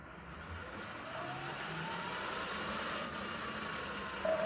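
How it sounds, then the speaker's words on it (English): An electric motor spins forward under OpenInverter FOC control, a faint steady whine that slowly rises in loudness, ending with a brief louder bump. "So our motor now spins in the forward direction."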